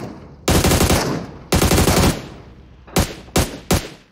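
Machine gun fire in the mobile battle royale game PUBG Mobile, loud and close: two long sustained bursts followed by three short rapid bursts, with no talk over them.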